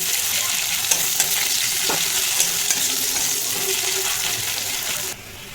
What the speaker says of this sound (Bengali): এরপর আমি দিয়ে দিলাম পেঁয়াজটাকে হালকা করে ভাজা ভাজা করে একটু বেরেস্তাও করব